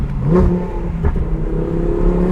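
An Audi R8 V10 Plus with a center exit exhaust revs hard, its V10 engine note rising and falling loudly and close by throughout, with a sharp blip near the start and another midway.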